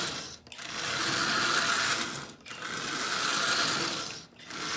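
Marx 595 toy train locomotive in dreadful condition, freshly given two drops of oil, running with a steady mechanical whir and rattle, briefly dipping in three short pauses, close and alone.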